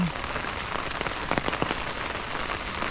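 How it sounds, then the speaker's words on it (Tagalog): Heavy rain pours down steadily, a dense hissing patter with occasional louder drops splashing close by. "malakas po yung ulan"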